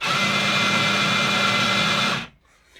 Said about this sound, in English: That noise is the note acceptor.